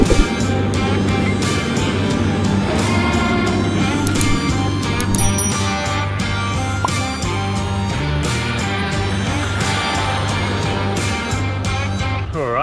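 A car with a failing differential drives an outback road, a loud steady drone of engine and drivetrain with a continuous low hum and rough mechanical whine under heavy road noise, close and unbroken.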